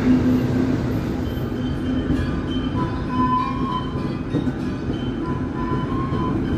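A long-distance train pulling out of Rancaekek station, heard from on board as a continuous loud rumble of wheels and carriage with faint squealing tones, no talk.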